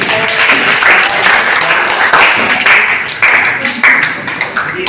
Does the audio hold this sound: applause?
yes